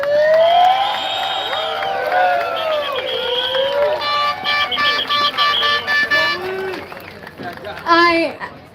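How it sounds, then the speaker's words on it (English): An outdoor crowd at a freedom assembly in Dundas Square cheers, whistles and claps loudly, with horns and whoops rising over a continuous roar, close and energetic. "Everybody put your hands together for Zoe"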